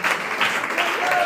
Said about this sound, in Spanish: Siga aplaudiendo, por favor.